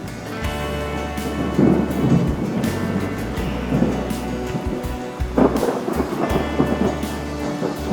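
Heavy summer rain falls on the Greek island of Nisyros as deep thunder rumbles and rolls repeatedly underneath, a dense, continuous downpour with no voices.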